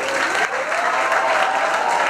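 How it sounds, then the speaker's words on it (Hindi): Dense, steady applause from a school audience at a film festival event, many hands clapping together at full volume for about two seconds without a break. "आइए सर प्लीज इनके लिए जोरदार तालियां हो जाए"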